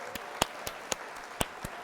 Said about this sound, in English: We're gonna hit the old applause there.